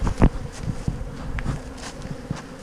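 A honey bee colony buzzes at a hive in a bee yard. Individual bees drone close past the microphone in short passes over a low, steady hum, with a few soft knocks.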